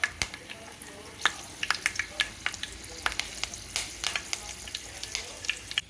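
Whole spices (cardamom, cloves, cinnamon, a bay leaf) and curry leaves sputter in hot oil for an aloo kurma tempering, close crackles and sharp pops scattered irregularly over a steady sizzle, with no talking.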